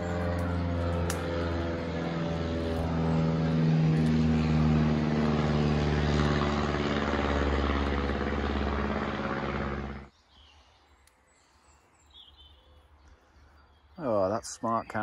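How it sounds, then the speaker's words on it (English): An acrobatic propeller plane passes overhead above a stealth campsite with a hammock, its loud, steady droning engine filling the air for about ten seconds before cutting off abruptly, leaving quiet with brief louder sounds near the end. "It's not a helicopter, it's an acrobatic plane."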